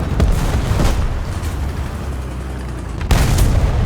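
A 75 mm tank cannon fires in the War Thunder tank battle game: a heavy boom at the start rolls into a low rumble, then a second sharp, loud blast near the end.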